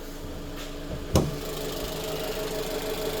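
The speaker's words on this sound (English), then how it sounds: "Nice strong running motor, no knocks, no ticks." An engine idles steadily at close range with a low, even rumble, broken once by a brief sharp knock or clunk.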